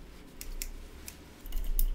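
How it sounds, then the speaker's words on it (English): Scissors snip stray fibers from a fly-tying mayfly nymph at a close bench, a few brief crisp cuts spaced apart, alone with no talk. "You can use your scissors to just get rid of the stray ones."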